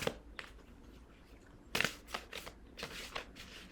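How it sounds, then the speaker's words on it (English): Tarot cards being shuffled by hand, a few separate papery riffling bursts with quiet pauses between them, close and soft with no talking. "not sure how I want to shuffle this"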